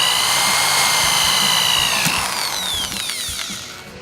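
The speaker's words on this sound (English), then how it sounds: "So I'm going to go in and finish drilling that hole." A power drill bores a hole through thick solid wood while a rack is being installed, a loud continuous whine that holds steady and then sags slightly toward the end, close up and without speech.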